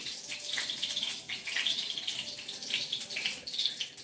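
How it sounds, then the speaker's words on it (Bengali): Hot oil with water in it hisses and spits steadily up close in a kadai while making pea kachori, with rapid crackling pops scattered through a continuous sizzle; no voices. "তেল গরম হয়ে গেছে, বললাম না পানি ছিল, দিয়ে দিয়েছি, ফটফট করে ফুটছে"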